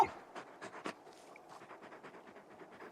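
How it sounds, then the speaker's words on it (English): A large dog companion in the Final Fantasy XVI video game pants softly in quick, uneven breaths, close but faint, with no talk over it. "You're just a big puppy, aren't you?"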